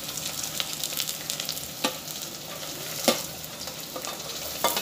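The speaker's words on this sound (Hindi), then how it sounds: "फिर इसमें मैं थोड़ा सा आलू जो काट के रखी थी इसमें ऐड कर दूंगी, और टमाटर भी इसी के साथ डाल दूंगी।" Cut potatoes and tomatoes fry in a pan for a vegetable biryani, a steady close sizzle broken by scraping stirs and a few sharp spoon knocks.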